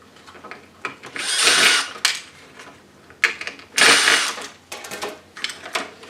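A power screwdriver backs screws out of a Technics KN-5000 keyboard in several short whirring bursts separated by pauses, close and fairly loud, with small clicks of parts being handled between runs.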